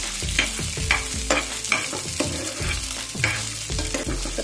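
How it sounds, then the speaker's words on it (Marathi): Fresh pigeon peas sautéing in a pan, stirred in repeated scraping strokes over a steady low sizzle of frying, close and fairly loud, with no voices. "आता आपण सोले टाकणार आहोत। त्याला परतून घ्यायचं थोडंसं, 5-7 मिनिटं लागतात।"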